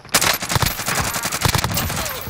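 Dense, rapid automatic gunfire from a multiplayer shooter game, loud and near, with rattling bursts running almost continuously.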